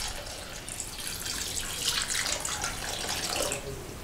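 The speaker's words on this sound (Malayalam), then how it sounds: "ഇനി ഇതിലേക്ക് ആവശ്യത്തിന് വെള്ളം ഒഴിക്കുക." Water pours steadily into a pot for Malabar-style coconut fish curry, a continuous close splashing stream that runs the whole time with no voices.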